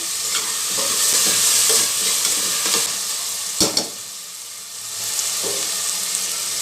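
Chana dal fries in oil with a loud, steady sizzle and crackle, close up, with a couple of sharp clinks of a spoon against the pan partway through.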